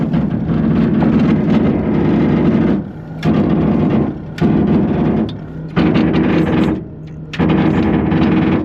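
A vehicle engine runs loud and close while pushing a trailer at a farm barn, its roar swelling in long surges with brief drops in between, each pass picking back up.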